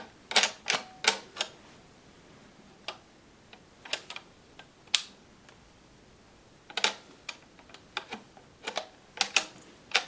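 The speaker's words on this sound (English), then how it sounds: "Put a cartridge in and push it down in there. Heard that click?" Metallic clicks and clacks from handling an Italian Vetterli M1870/87 rifle with magazine cutoff while cartridges are pushed into the magazine, sharp irregular clicks in bursts, close and quiet, no talking.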